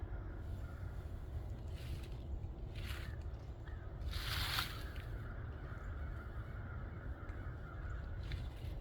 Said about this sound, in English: Hear a bunch of crows out this morning too.